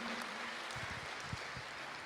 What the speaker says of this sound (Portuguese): Para Jesus, dê uma grande, mais grande e forte salva de palmas.